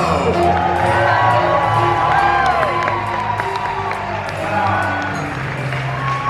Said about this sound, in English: What a crowd! This is awesome!